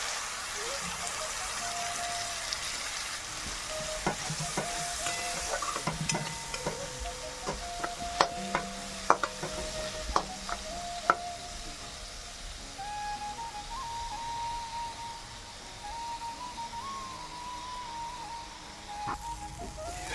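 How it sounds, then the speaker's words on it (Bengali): Spices mixed with a little water fry in oil in a pan, giving a soft, continuous sizzle with intermittent stirring clinks and scrapes, while a person talks over it. "ওই তেলের মধ্যে দিয়ে দেবো মশলাগুলি দিয়ে দিচ্ছি"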